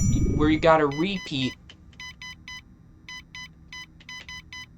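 A voice speaks briefly, then a sequence of short electronic beeps from a Simon-style memory game in LittleBigPlanet 2 follows in quick groups of two or three, bright and clear against quiet.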